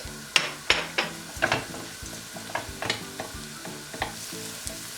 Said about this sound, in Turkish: Soğan, salça, biberler ve bulgur bir güzel kavrulsun.